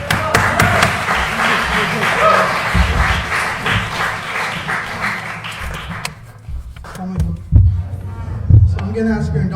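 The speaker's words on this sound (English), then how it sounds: "Round of applause." An audience at a community gathering claps for the next speaker, a burst of applause that thins out into scattered claps and thumps, with some talking mixed in.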